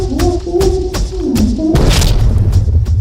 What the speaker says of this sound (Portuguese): ele joga uma granada e tenta matá-la.